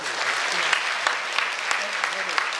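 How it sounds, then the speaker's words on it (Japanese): An audience at a dinner show at the Tokyo Dome Hotel claps steadily, a dense, continuous round of applause with a few louder sharp claps, and a voice speaks faintly beneath it. "今拍手してくれるお客さんも本当にありがとうございます"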